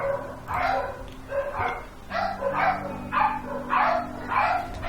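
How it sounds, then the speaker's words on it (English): Dogs bark in the war-survival game This War of Mine, loud repeated barks in an uneven run of about eight, some overlapping, over a low steady ambient hum. "And there go the dogs."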